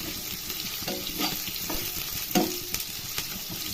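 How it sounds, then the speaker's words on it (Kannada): Onion and green chillies fry in oil in a pan, a close continuous sizzle with periodic stirring scrapes and one sharper clatter midway. "ನೆಕ್ಸ್ಟ್ ಈರುಳ್ಳಿ ಹಾಕ್ತಿದ್ದೀನಿ."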